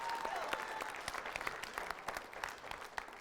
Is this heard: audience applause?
yes